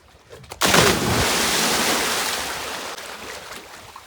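A person cannonballs into outdoor bathing water on a hot summer day, hitting with one loud, close splash that settles into a long rush and churn of water fading over several seconds.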